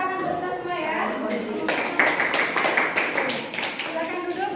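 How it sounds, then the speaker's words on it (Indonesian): A classroom group claps after a presentation, starting as scattered taps and swelling into fuller clapping midway, with a teacher's voice talking over it throughout. "tepuk tangan untuk kita semua"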